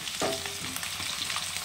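Pieces of pointed gourd frying in hot oil, a short burst of bubbling sizzle with a brief clatter near the start, then a steady crackle.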